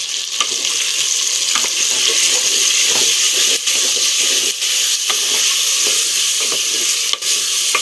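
Steady sizzle of brinjal frying in a pan as ginger and garlic are stirred in, a continuous close hiss with soft scraping stirs, no voices.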